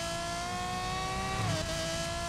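Engine of the maxed Iron Man Vulcan car in Need for Speed Payback, a steady high whine with a sustained tone that dips slightly as it shifts, continuous and fairly loud with no talking.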